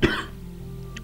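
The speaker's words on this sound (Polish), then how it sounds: "Kurde, wieczorami to naprawdę mnie kaszle, także szok." A single sharp cough bursts out at the very start, then fades into a low, steady background hum with no further coughing.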